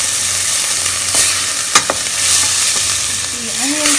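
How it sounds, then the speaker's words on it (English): Onions sauté in hot oil with three black peppercorns for a vagharli khichdi. A loud, continuous frying hiss carries a few sharp spoon clicks and stirring scrapes, with no one speaking. "So we'll saute the onions slightly."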